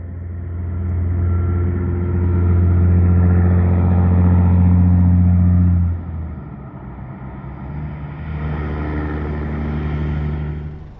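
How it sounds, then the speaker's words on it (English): Heavy trucks roll along Nevada's Highway 95, a loud deep engine rumble that drones steadily, drops off briefly as one passes, then returns with another vehicle's low growl close by. "non-stop truck traffic on this highway"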